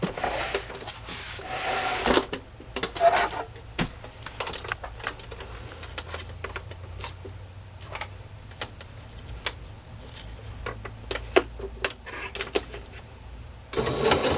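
A sewing machine stitching ribbon down onto a placemat, quiet mechanical clicks and short bursts of needle tapping in uneven runs, with louder knocks near the start and end.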